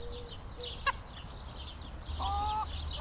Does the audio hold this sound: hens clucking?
yes